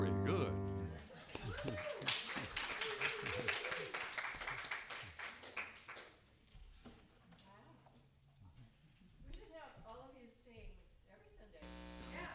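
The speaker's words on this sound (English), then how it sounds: "Let's give them a nice round of applause" A church congregation at a Sunday service breaks into applause, a dense burst of clapping that fades after a few seconds into quieter talk and a voice.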